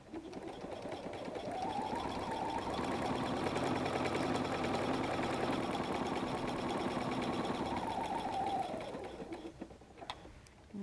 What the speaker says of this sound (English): I want you to sew within the 2 black top stitching lines. And I want you to stay on your triple zigzag